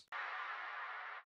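A clap sample with a reverb tail, used as a small hit in dubstep production: a short transient followed by a smooth, airy wash that holds for about a second, then cuts off cleanly.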